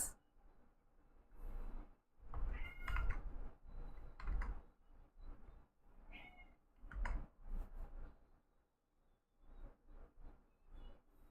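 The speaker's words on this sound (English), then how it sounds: "My other cat who likes to annoy me." A pet cat meows several times at close range indoors, short vocal bursts spread irregularly across the moment with quiet pauses between, no talking over it.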